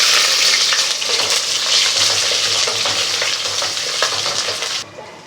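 Chopped large onion sizzles and fries in half a cup of hot oil for beef paya masala, a loud continuous crackle with stirring scrapes, ending abruptly.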